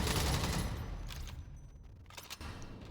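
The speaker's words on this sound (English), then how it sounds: "I prefer the automatic fire" Automatic weapon fire in the sci-fi shooter EVE Vanguard, a loud rapid burst at the start fading into scattered sharp shots and impacts over a few seconds, no speech.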